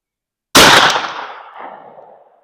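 A single close, loud gunshot from an H&R rifled 32 gauge shotgun firing a .490 round ball outdoors, a sharp blast followed by a decaying echo over about two seconds.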